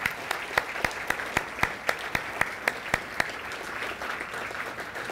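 An audience at a State of the City 2019 event claps for honored people, a steady wash of applause with a few sharp, distinct claps standing out in a fairly even rhythm throughout.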